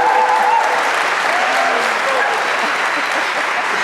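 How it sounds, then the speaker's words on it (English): An audience applauds at a fashion show ceremony during Milan Fashion Week, a steady, dense wash of clapping that fills the whole span at an even level. "I think we should have a little applause."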